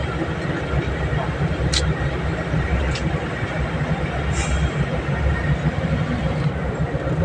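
A bus rolls along the Konkan highway from Devgad toward Mumbai, with a steady low road rumble and engine drone throughout and a few faint high clicks, and no talk.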